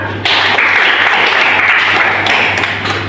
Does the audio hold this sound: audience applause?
yes